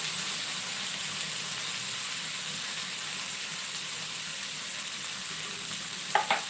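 Finely chopped tomato frying in prawn masala in a pan, a constant soft sizzle and crackle with faint stirring, then a short clink of a utensil near the end, and no voices.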